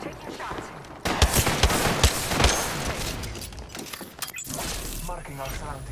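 Rapid gunfire rattles through a shooter video game battle, bursts of shots cracking close and loud from about one second on, mixed with game voice callouts and other effects.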